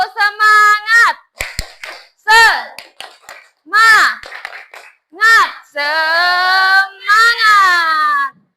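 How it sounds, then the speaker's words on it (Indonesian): Schoolchildren in a classroom chant a rhythmic clapping routine, with sung voices in short bursts and a few sharp hand claps between phrases. "kita tepuk semangat dulu ya, biar semangat dalam belajar"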